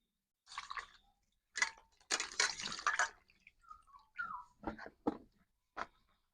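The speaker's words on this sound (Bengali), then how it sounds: "বেগুন কাটা হয়ে গেছে এবার আমি ভালো করে ধুয়ে নেবো" Cut eggplant being washed by hand in water while preparing a Bengali fish curry, making short, intermittent splashes and drips in separate bursts, fairly close and quiet, with no talking.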